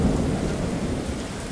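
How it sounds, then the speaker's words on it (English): Thunder rolls in a deep, continuous rumble while steady rain pours down, a dense, loud storm wash with no voices. "The rain continues to fall. The thunder has continued to rumble."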